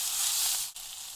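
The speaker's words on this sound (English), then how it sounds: "I'm going to saute it for another minute or so." Green chilies, mint and coriander sauteing in a pan give off a bright, steady hiss that dips briefly and then continues, close and with no talking.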